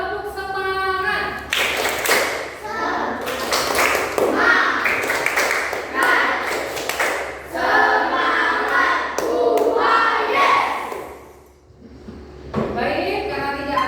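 A group of students in a classroom performs a rhythmic 'tepuk semangat' clapping chant, loud and close, with patterned claps mixed with chanting voices for most of the span.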